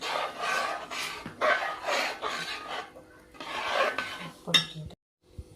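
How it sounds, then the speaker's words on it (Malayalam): Ginger-tamarind curry (puli inji) being stirred in a pan, rhythmic scraping strokes repeating about once a second, moderately close, with a brief metallic clink near the end before it falls quiet. "ഇനി നന്നായിട്ടൊന്ന് ഇതുപോലെ ഇങ്ങനെ ഇളക്കിക്കൊണ്ടേ ഇരിക്കാം"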